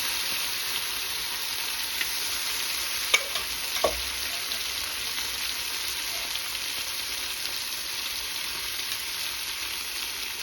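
Chicken sizzles in a very hot clay pot over a wood-fired stove for biryani, a constant hiss with two brief knocks from the utensil.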